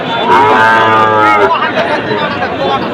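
A red Sahiwal heifer calf at a cattle market gives one loud, drawn-out moo close by, followed by the surrounding crowd's chatter and murmur.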